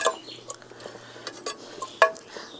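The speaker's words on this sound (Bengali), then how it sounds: "মাংসটা দিলাম তো একটু নাড়িয়ে দেবো" Mutton is being stirred in a handi cooking pot, giving a few soft, scattered clinks and scrapes of a utensil against the metal. The sounds are faint, with one sharper knock near the end.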